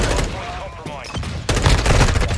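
Shotgun blasts in the shooter game Call of Duty, loud and close, a couple of heavy reports within a dense, busy mix of game noise.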